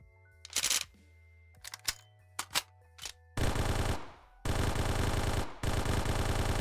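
M7 SMG from a Halo-style shooter game firing: a few short separate bursts at first, then long sustained, loud automatic fire in two extended stretches with a brief pause between.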